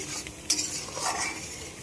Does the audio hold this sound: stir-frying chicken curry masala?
yes